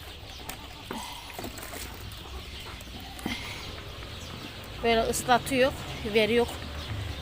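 Chickens cluck and squawk in short bursts near the end as they are given leftover bread, with a person talking quietly and faint background noise earlier.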